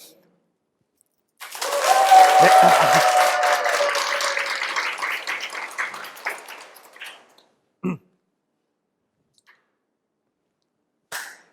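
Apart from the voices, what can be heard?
audience applauding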